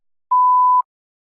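A single clean electronic beep prompts the start of a test response: one steady mid-pitched tone, about half a second long, with silence before and after.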